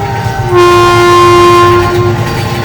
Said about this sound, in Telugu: రైలు చాలా వేగంగా వచ్చింది